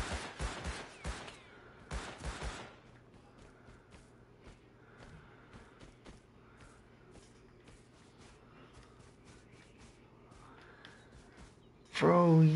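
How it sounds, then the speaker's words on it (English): Gunfire aimed at the player in the survival game Rust: a few sharp shots in quick succession near the start, a quiet stretch of rustling and footsteps, then a loud burst at the end. "he started shooting at me"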